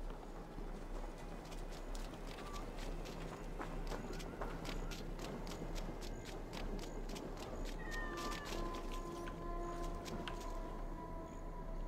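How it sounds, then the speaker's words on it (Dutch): A cat meows in Assassin's Creed Valhalla, a few short cries rising over a steady game soundscape of hoofbeats, footsteps and ambient noise, moderately loud throughout. "What a handsome cat."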